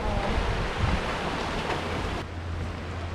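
Steady rushing of sea waves washing in at Hanagae Beach on Muuido island, South Korea, a broad continuous surf noise, loud and close, with no voices.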